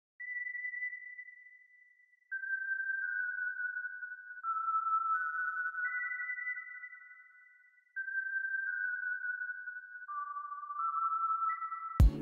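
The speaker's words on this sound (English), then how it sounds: "my next sound is some bells out of this Arteria VST" Synth bell tones from an Arturia software instrument in a West Coast hip-hop beat, a slow sequence of sustained pure bell notes stepping between pitches, clean and alone, ending in a short sharp hit.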